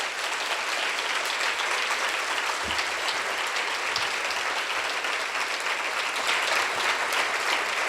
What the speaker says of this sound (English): These schools have set the bar high, and they deserve your applause.